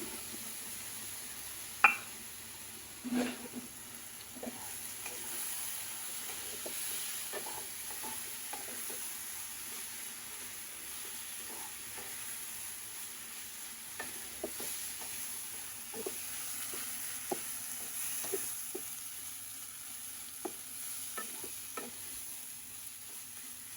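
A curry thickened with rice-flour paste (pithli) is stirred as it cooks, a soft steady sizzle under irregular scrapes and knocks of the spoon against the pot, faint and close.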